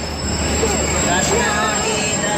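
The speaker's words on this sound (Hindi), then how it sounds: "ठीक उसी वक्त 13 अप अवाम एक्सप्रेस ने चलना शुरू कर दिया" The 13 Up Awam Express begins moving out of Rori Junction railway station, a loud close rumble of rolling rail cars with thin squealing wheel tones drifting over a constant roar.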